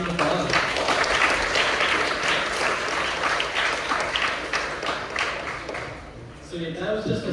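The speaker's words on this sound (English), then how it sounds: "Thank you, all mentors. Let's give them a round of applause." A room full of people gives a round of applause for the AI club's mentors, with steady dense clapping that thins out toward the end, mixed with some voices.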